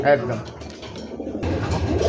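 A Rasgolla pigeon at a pigeon market gives a low soft coo, heard close, while someone talks over it.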